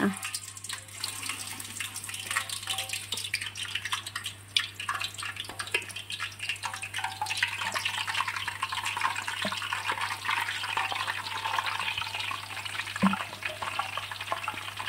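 Steady sizzling and crackling of banana chips frying in hot oil in a pan, turned over as they cook, continuous for the whole stretch, with a low hum and faint clinks underneath.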